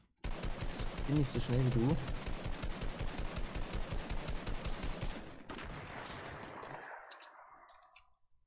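Rapid automatic gunfire in the Fortnite video game, a dense rattling burst of shots for several seconds that ends abruptly and leaves a fading echoing tail, with a voice talking briefly over it.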